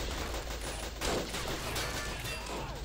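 Battle of Empires 1914-1918 battle with dense, continuous gunfire and machine gun bursts rolling under a steady roar, loud and unbroken for the whole stretch.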